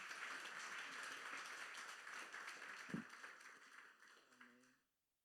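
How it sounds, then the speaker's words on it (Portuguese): Faint, distant applause rises from a congregation welcoming someone during a celebration service in church. The clapping holds steady, briefly swells, then trails off quickly into silence. "Vamos a recibirlo com uma salva de palmas"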